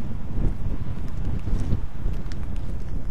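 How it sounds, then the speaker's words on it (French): Wind blowing across an open plateau near an old military base, a steady low rumbling roar with gusty buffeting against the microphone throughout, no voices. "Il y a du vent."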